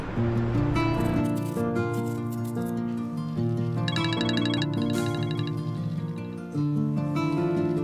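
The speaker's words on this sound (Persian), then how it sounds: "موبایلتون زنگ میخوره" A mobile phone ringtone rings out loud and continuous, a bright repeating electronic melody that plays alone with no talking.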